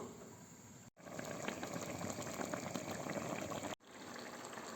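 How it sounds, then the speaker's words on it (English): Quiet bubbling and simmering from a pot of chicken and taro stew, a soft continuous gurgle broken by two brief cuts, faint and close. "It's boiling really nicely."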